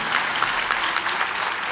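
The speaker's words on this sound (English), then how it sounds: "you can clap" Audience applause at a college commencement ceremony, a dense, steady clapping from a large crowd that holds evenly throughout with no voices standing out.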